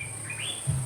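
A bird chirps near a family dinner table, a brief, faint high tweet rising and falling over low room hum, with a soft clatter near the end.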